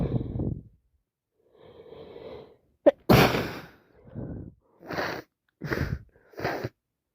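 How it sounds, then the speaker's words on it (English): Breathy sniffs, gasps and sharp bursts from a person with hay fever allergies, including one abrupt loud sneeze-like burst and several short repeated blasts close to the microphone, separated by quiet pauses. "Sneezing is just constant."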